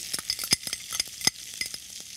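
Onions tumble into a hot pan of browning cumin, giving irregular scraping stirs and short sizzling bursts with a few sharp metallic clicks, fairly close and with no talking.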